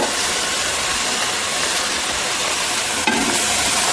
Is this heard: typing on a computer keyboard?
no